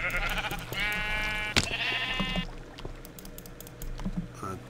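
Minecraft sheep bleat twice in quick succession, clear and near, followed by a sharp hit and soft clicking of a computer keyboard under game ambience.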